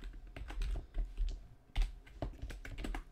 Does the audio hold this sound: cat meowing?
no